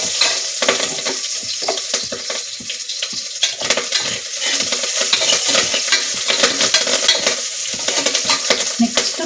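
Curry leaves spluttering and popping in hot oil during festival cooking, a dense continuous crackle and sizzle with bursts of sharp pops, close and fairly loud with some stirring.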